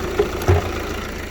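An Audi A6 diesel engine with a boost sensor fault idles steadily at close range, a low continuous hum with a couple of brief louder bumps near the start.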